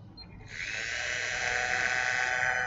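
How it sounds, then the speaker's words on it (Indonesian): Dental implant drill running at 500 rpm into a soft-bone sinus training model, a steady high-pitched whine that starts after a brief quiet moment and holds close and constant to the end. "Kita drill sampai mentok."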